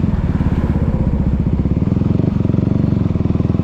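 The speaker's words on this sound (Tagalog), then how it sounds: "Pero ito ay single cylinder lang siya, kaya ganyan yung tunog niya." A single-cylinder motorcycle engine on a road ride, a loud, close, steady thumping exhaust with a fast regular pulse and a slight shift in pitch partway through.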